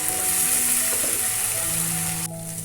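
Tomato puree frying in hot oil for a mushroom chana curry gives a steady, loud, close sizzle that hisses continuously, with a brief stir partway through and a slight drop in intensity near the end.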